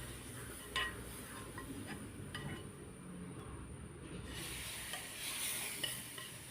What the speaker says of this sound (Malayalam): ഇനി നമുക്കിതെല്ലാം നമ്മുടെ പായസത്തിലേക്ക് മിക്സ് ചെയ്യാം